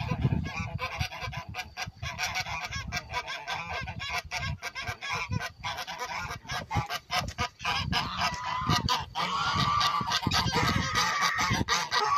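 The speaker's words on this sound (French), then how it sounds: "Voilà, un accouplement d'oie de Guinée." Guinea geese honking repeatedly during mating, a dense run of harsh, overlapping calls at close range over the whole stretch, with no talking.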